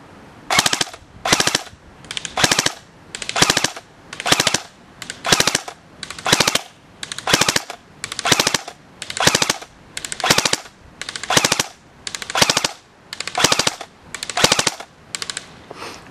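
An ICS MX5 airsoft gun fires repeated three-round bursts, about fifteen sharp, loud, evenly spaced rattling bursts close by, with no talking.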